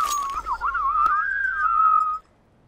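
A person whistles a wavering, melodic tone for about two seconds during a CS:GO match, close and clear, with a faint click partway through before it cuts off.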